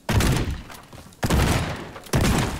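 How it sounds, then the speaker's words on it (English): Three loud, close gunshots from the video game Teardown, each a sharp blast trailing into a rumbling decay, spaced roughly a second apart, with no talking. "I'm just gonna shoot off that one's bum."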